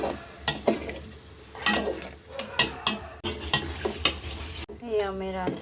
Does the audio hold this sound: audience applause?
no